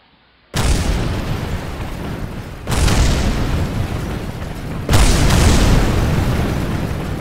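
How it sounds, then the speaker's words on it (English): In the video game Kerbal Space Program, a fuel tank explodes: three heavy explosions boom in quick succession, each leaving a loud, sustained roaring rumble that grows stronger with every blast. "Whoa! There goes our tank."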